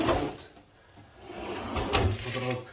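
A kitchen cabinet drawer slides open and shut with a soft wooden rumble and a couple of muffled knocks close by, against a faint room background.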